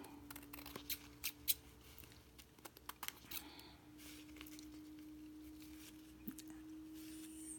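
Small scissors snip through excess handkerchief fabric beneath lace in a few quick, soft cuts, faint and close against a low steady hum.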